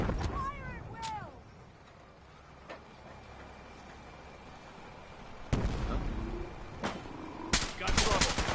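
Gunfire erupts in the video game Fallout 4: scattered sharp shots and bursts punctuate a dim background, growing denser toward the end, with brief game voices and effects in between.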